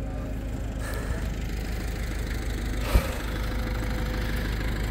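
Tow truck engine idling steadily while being fueled, a constant low rumble throughout with a single brief knock near the middle.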